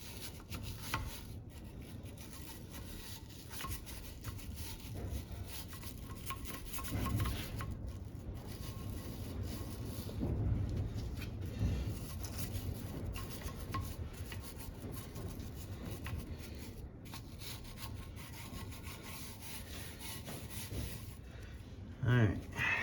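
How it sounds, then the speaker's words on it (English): A wire brush scrubs surface rust from a cast-iron Chevy 350 V8 cylinder head, casting number 3998991, giving a continuous raspy rubbing that runs on for over twenty seconds, with a few brief louder knocks near the end. "any rust that's on here is just coming right up as soon as the brush hits it."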